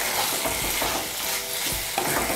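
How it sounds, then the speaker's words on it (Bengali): Raw mustard oil is stirred into a raw tomato relish, giving a continuous wet, squelching mixing noise with a dense hiss and soft low thumps from the spoon, close up. "তেলটা ভালো করে মিশিয়ে নেব।"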